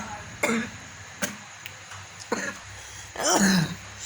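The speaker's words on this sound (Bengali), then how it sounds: "সেই জন্য কাশি হয়।" A person with fluid on the lungs coughs and clears their throat several times in short separate bursts, close and fairly loud, the last cough longer and rougher.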